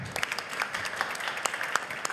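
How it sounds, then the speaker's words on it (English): Brief applause from a conference audience at a tech event, with scattered, moderately loud individual claps over a softer crowd wash. "We can give a warm hand of applause."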